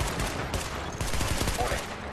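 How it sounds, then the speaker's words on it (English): Enemies in The Division fire rapid bursts of automatic gunfire, a dense run of sharp, close cracks with no pauses. "Oh, they are shooting."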